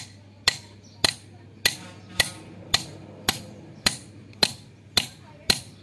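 Bajaj shock absorber bush being tapped out with a 17 mm socket, ten evenly spaced sharp metallic hammer strikes about half a second apart, close and clear with a low hum underneath.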